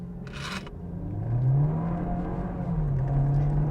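Volkswagen Jetta MK7 in race mode pulling hard during a timed run with a passenger aboard, its engine droning loud and steady as the revs climb in a rising whine, with a brief hiss early on.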